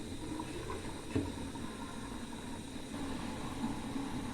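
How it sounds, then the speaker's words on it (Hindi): Water boils in a cooking pot for meat in a home kitchen, a soft continuous bubbling and hiss with a few small pops, low and steady with no talk. "ये लीजिए, पानी को उबाल आ गया है।"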